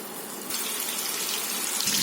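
Seekh kebabs go into hot oil in a pan, and a loud, close, steady hiss of frying starts abruptly and continues, with no talking.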